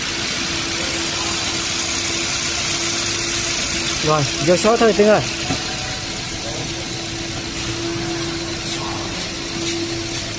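A Hyundai i10 engine idles just after a clutch replacement, a steady close hum that persists throughout, with a brief burst of speech in the middle.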